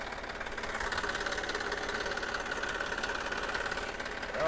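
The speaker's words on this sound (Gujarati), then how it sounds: "ટ્રેક્ટરમાં પાણા લાવી છીએ" A tractor engine idles nearby with a steady, rapid chugging knock, loud and continuous throughout, its trailer loaded with stones.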